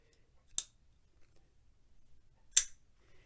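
Two crisp, sharp metallic clicks about two seconds apart as a Kizer Laconico Gemini pocket knife blade is snapped closed, near and otherwise quiet.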